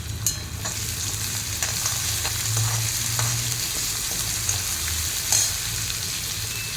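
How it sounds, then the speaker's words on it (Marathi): Onion sautés in a pan for upma, a continuous close sizzle and frying hiss with the scrape of stirring and a low hum beneath, no voices. "छान मिक्स करून कांदा मऊ पडेपर्यंत परतून घेऊयात"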